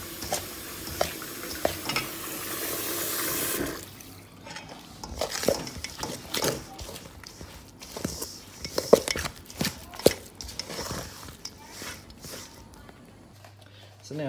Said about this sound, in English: And I'll start mixing this.